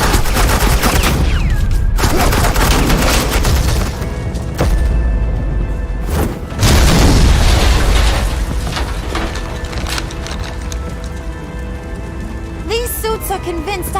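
Suppressing gunfire in Batman The Enemy Within, loud rapid automatic bursts close by, cutting out briefly and resuming, with faint voices in between.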